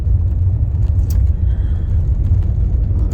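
A car rolls along a road with a steady, close low rumble of engine and tires that holds for the whole stretch without fading.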